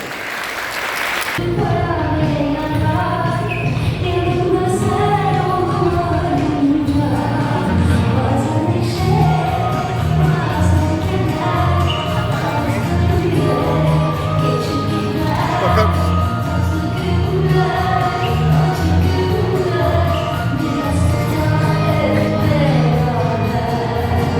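Wedding guests applauding in a hall, loud sustained clapping from a large crowd with scattered shouts and whoops running throughout.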